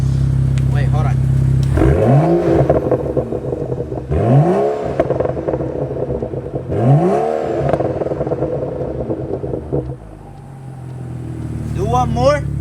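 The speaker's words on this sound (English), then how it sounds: "we're gonna do a quick rev so you guys hear the before and after" A BMW 435i with a catless downpipe in Sport Plus mode revs hard three times in succession, each rise sweeping up and falling back, with a fourth shorter rev at the end; loud and close.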